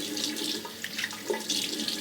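Running water from a tap splashes briefly as a shaving brush is wetted before building lather, a steady close trickle with small splashes throughout, no voices.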